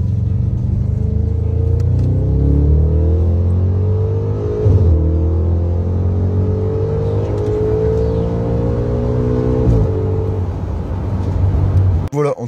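An Audi RS5 with a 4.2 V8 growls loudly from inside the cabin while driven, its note climbing through several long pulls and dipping at gear changes, with a sharp blip near the end.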